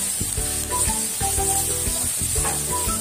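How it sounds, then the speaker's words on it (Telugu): Bitter gourd (kakarakaaya) pieces frying in a pan with salt, a steady close sizzle broken by the scrape and clatter of stirring. "కాకరకాయ ఇంకా బాగా వేపుడు అయ్యే వరకు మనం ఈ విధంగానే ఫ్రై చేస్తూ ఉండాలి"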